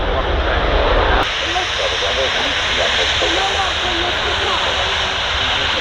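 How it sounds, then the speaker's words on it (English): Airbus A380 jet taxiing at Manchester Airport, a loud, steady broadband engine roar that stays close and continuous throughout, with a slight drop in intensity after the first second. "the A380 is about to start taxiing"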